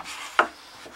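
A sharp chisel scoops out wood for a pinning tray, heard as a brief scraping rub with one crisp cutting snap, close and quiet.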